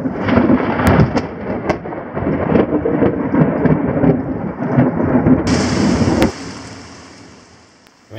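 Heavy rain falls during Panama's rainy season while thunder rumbles loudly, then the downpour fades to a quieter hiss.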